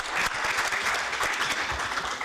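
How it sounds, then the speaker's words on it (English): A crowd claps steadily in dense, sustained applause, fairly close, with no speech over it. "A good round of applause for both"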